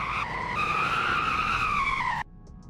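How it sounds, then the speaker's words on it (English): Car tires skid in a Roblox driving game, a loud sustained rubbery squeal over engine roar lasting about two seconds before cutting off abruptly to near silence. "You made a lot of skid marks, but braking isn't that bad."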